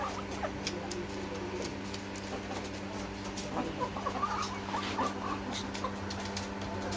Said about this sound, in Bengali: অনেক সুন্দর মুরগি, মাশাআল্লাহ।